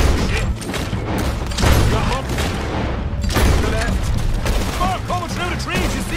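Gunfire in a Red Dead Redemption 2 shootout: dense, continuous bursts of shots and booming impacts with mechanical clatter, loud and busy throughout, with speech-like voices mixed in among the shots.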